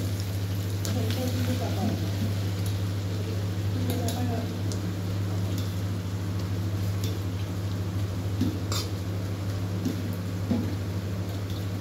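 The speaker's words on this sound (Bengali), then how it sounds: "আমি ভালো করে এখন পেঁয়াজটা ভেজে নিই।" Onions frying in a pan give a steady, faint crackling sizzle throughout, with a low constant hum and a voice talking over it at times.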